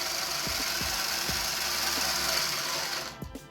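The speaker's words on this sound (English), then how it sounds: "And we're going to give the throttle a test." An RC car's electric motor driven by its ESC during a throttle test, a steady high whine with faint rhythmic ticking underneath, close and constant before it cuts off near the end.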